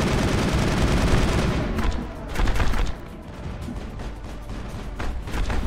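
In the Mass Effect video game, a loud, roaring blast rumbles heavily. It fades into crackling debris and scattered sharp pops, and the rumble swells once more briefly before settling into quieter rattling.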